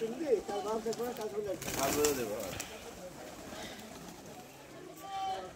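Pigeons flocking down to feed at a village bird farm coo in low, repeated calls, close by, with a burst of wing flapping midway and a person talking over them.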